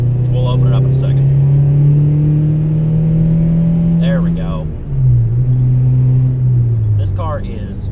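A deep, steady exhaust drone from a newly bought car with the exhaust opened up holds strong for several seconds, dips briefly, then returns at a slightly lower pitch, with someone talking over it.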